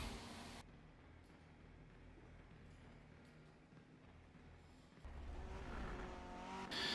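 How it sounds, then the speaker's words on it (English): A tuned Ferrari F40 drifts in Forza Motorsport 7, its engine a continuous faint drone with tire squeal, growing louder and harsher in the final seconds. "I've got the Ferrari F40 all tuned up, Drift Max as it's called."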